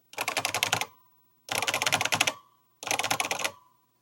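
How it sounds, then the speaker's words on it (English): Three quick bursts of rapid typing on an Alps SKCC mechanical keyboard, each a dense clatter of close, crisp keystrokes followed by a short ringing resonance and silence. "When you type on this keyboard, it has a really nice resonance sound."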